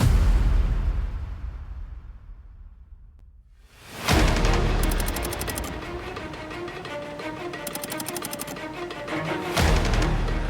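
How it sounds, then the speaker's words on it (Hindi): Building work on a game show set: after a few quieter seconds, a sudden loud burst of clattering, banging construction noise fills the space and keeps going, with sharp impacts and no speech. "क्यूब्स, आप कंस्ट्रक्शन की आवाज सुन सकते हैं।"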